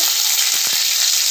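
Cumin and mustard seeds hit hot oil for a vegetable palya, setting off a loud, close, hissing sizzle with a couple of faint low knocks in the middle of a brief burst.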